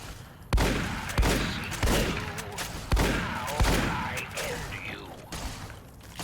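Loud, close gunshots in Fallout New Vegas during a fight with a giant scorpion, about half a dozen heavy reports at roughly even intervals, each trailing off into echo.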